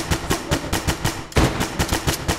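Rapid automatic gunfire in the tactical shooter Ready or Not, loud and close, with two sustained bursts of evenly spaced shots separated by a brief break.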